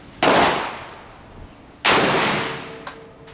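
Two loud, sharp gunshots from a SCAR rifle fired at a shooting range, about a second and a half apart, each ringing out in a long decaying echo.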